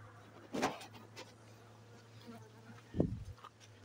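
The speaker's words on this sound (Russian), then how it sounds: "Недовольны, то что я их тут открыл. Не очень пчелы довольны." Honey bees at an opened hive box with brood frames give two short, close buzzing passes over a faint steady background hum, quiet and without talk.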